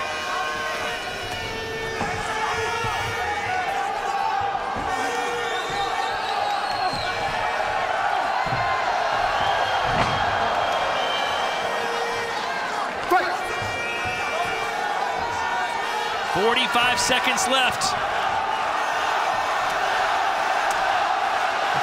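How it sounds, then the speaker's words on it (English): A French crowd roars at a GLORY kickboxing tournament final in Lyon, with cheering that swells and surges throughout while a commentator talks over it. "The French crowd is awake."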